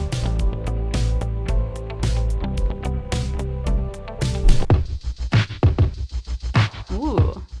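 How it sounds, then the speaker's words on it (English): A recording plays with a punchy drum-machine beat and bass for about four and a half seconds, then cuts to a sparser, quieter stretch of scattered tones. "Ooh, nice drum machine."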